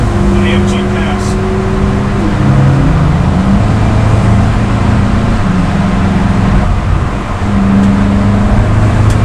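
A Mercedes-AMG car passing on the Nürburgring Nordschleife, its engine droning loud and steady with shifting pitch throughout, under continuous road and wind noise heard from inside a moving car.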